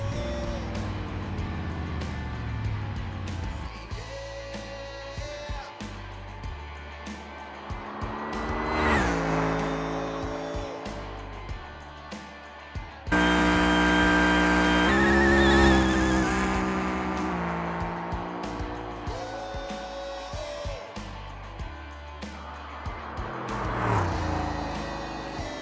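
Supercharged ETK K-Series no-prep drag car in the BeamNG driving game, a loud sustained engine roar rising through gears over a quarter-mile pass, with a sharp surge partway and tire noise, no talk.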